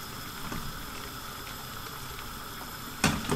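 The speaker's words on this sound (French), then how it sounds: "vous pouvez faire bouillir votre eau sans problème tant que l'intérieur ne bout pas" Water boiling steadily in a bain-marie used to melt ingredients for a leather-care balm, a continuous soft bubbling hiss at moderate level, with a brief louder burst near the end.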